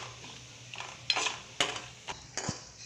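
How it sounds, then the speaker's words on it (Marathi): Dried coconut roasts in oil in a kadhai for misal. A spatula scrapes and clicks against the metal a few times over a faint background hiss, quiet and close. "इथे मी सुकं खोबरं घेतलं होतं, ते आता आपण या तेलात भाजून घेणार आहोत।"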